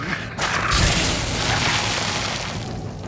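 A single loud explosion booms in the Silent Hill 2 Remake, erupting suddenly after a short lull and trailing off into a long, rumbling roar.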